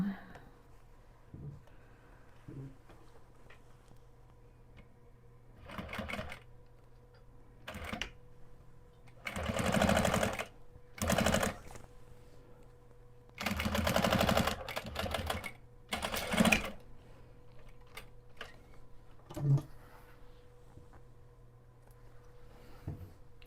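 Sewing machine stitching a quilted zipper pouch with a fresh bobbin, running in several short bursts of a few seconds each separated by quiet pauses, fairly close.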